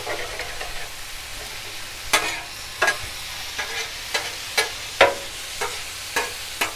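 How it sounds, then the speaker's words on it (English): Butter and chicken hibachi noodles sizzling on a Blackstone griddle, a steady hiss punctuated by a regular series of sharp spatula scrapes and taps against the flat top. "Go back to my friend the butter, throw some in there."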